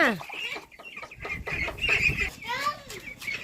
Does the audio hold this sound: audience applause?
no